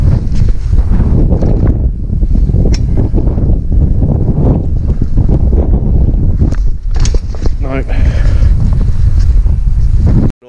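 Strong wind buffets the microphone at an outdoor skatepark during BMX riding, a loud continuous low rumble with gusts that drops out abruptly at the very end.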